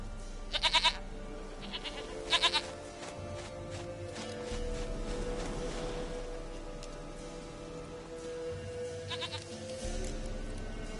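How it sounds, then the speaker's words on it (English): In The Witcher 3, a goat bleats in short, loud, quavering bursts, twice close together near the start and once more near the end, over a steady game ambience that sounds like rain. "Goat of mine, dearest, sweetest goat."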